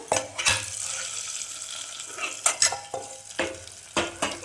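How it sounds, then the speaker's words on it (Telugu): Hot tempering poured into tomato dal in a pot, giving a wet sizzle with bursts of bubbling and a few sharp clanks of a utensil against the vessel, close and moderately loud. "తాలింపు ఇలా అయిపోయిన తర్వాత తాలింపు వేస్తున్నానండి పప్పులో"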